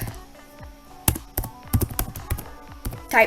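Typing on a computer keyboard while coding a basic Python calculator: a sparse, uneven series of close, crisp key taps and clacks with short gaps, no voice.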